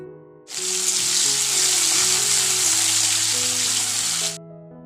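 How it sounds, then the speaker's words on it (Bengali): Chopped onions sizzle loudly in hot mustard oil, a steady dense hiss that starts abruptly and cuts off near the end, with a faint low hum underneath. "এবার পেঁয়াজ কুচি দিয়ে লাল লাল করে ভেজে নিব"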